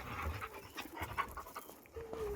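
A dog pants close by in quick, steady breaths, soft and fairly faint, with small rustles and a brief whimper-like tone near the end.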